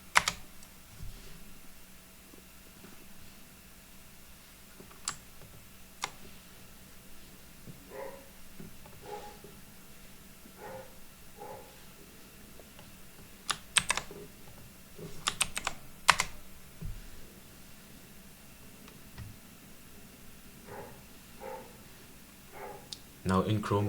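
Keystrokes clatter on a computer keyboard in scattered bursts over a steady low background hum, with a few louder clusters of quick taps near the middle and end.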